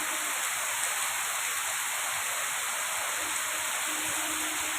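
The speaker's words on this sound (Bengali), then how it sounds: "দেখুন কিভাবে বৃষ্টি হচ্ছে" Heavy rain pours down steadily over a street and into a residential complex at night, a dense, even hiss with no pauses and no voices.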